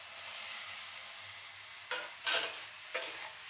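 Fried pumpkin pieces go into hot spiced oil, setting off a steady close sizzle with a few louder bursts and scraping stirs near the end.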